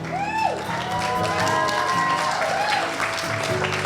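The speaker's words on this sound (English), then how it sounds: "Let's give them a round of applause." Wedding guests at a reception give a sustained round of applause, a dense wash of clapping mixed with music and voices in the room.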